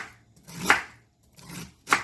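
A knife chops through cabbage into strips on a board, two crisp separate cuts about a second apart, close and clear with no talk.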